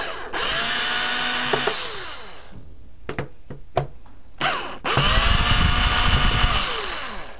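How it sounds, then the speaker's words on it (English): A power drill works tight screws out of a PS3 console in two long, loud whirring bursts, with the pitch rising as each starts. Between them come a few short clicks and brief trigger taps, up close with no voices. "I had to adjust my drill real quick because the screw was too tight for it."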